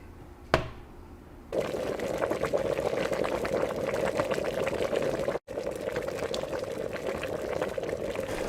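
A pot of potatoes on the stove gives a loud, continuous bubbling and rushing boil after a short knock, holding steady with one brief dropout.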